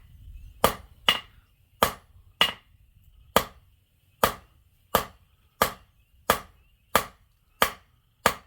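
A copper leaf bangle is struck with a hammer: about fourteen sharp metallic blows at an uneven, deliberate pace, close and clear, with quiet gaps between them.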